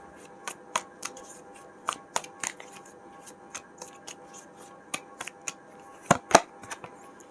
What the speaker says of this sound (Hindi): कार्ड शफल करके देखते हैं।